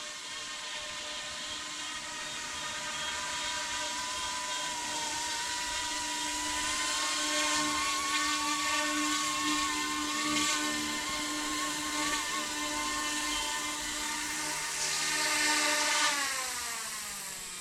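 A small Eachine E200 PRO SH-60 scale RC helicopter flies outdoors in a park, its rotor and motor giving a steady, high-pitched whine that holds throughout with slight rises and falls in pitch.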